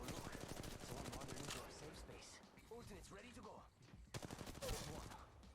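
Rapid gunfire from the mobile battle royale shooter Apex Legends Mobile, bursts of automatic shots crackling loudly in fast repeated volleys, with someone talking over parts of the action.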